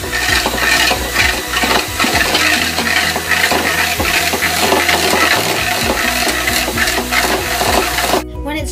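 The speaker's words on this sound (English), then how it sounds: "And now we will whisk this on medium to low speed." Electric mixer whisking whipping cream in a bowl at medium-low speed while baking a caramel apple upside down cake, a steady continuous whir with clinks against the bowl, close and loud throughout.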